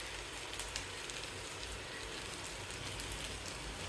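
Oil trickled around the edges of a flipped vegetable pancake frying in a pan hisses in a steady, soft, even sizzle with no voices over it.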